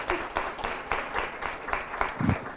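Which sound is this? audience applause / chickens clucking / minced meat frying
audience applause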